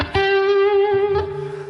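A single sustained electric guitar note run through a germanium-clipped KWB overdrive on a Helix, thick with buzzy harmonics, with a second pick attack near the end and a reverb tail.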